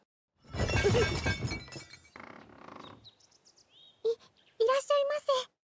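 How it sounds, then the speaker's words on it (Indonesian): Loud shattering crash in an anime scene, right after a knock at a shop door, followed by a few short clinks and brief high voiced cries; the break dominates the first seconds. "Kurt menggetok pintunya, langsung terdengar bunyi pecah"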